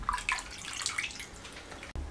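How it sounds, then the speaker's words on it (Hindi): Water trickling and dripping from marinated chicken pieces sitting in a kitchen strainer, a soft steady patter of drops with a few brighter splashes and a short break near the end. "यहाँ स्ट्रेनर पे निकाल दें और 5 से 7 मिनट के लिए छोड़ दें ताकि इसका पानी वगैरह अच्छे से ड्रेन हो जाए।"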